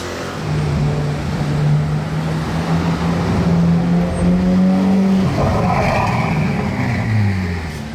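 A Ferrari F8 with open exhaust roars loudly nearby in Monaco, its pitch climbing steadily through acceleration, then falling as it passes by.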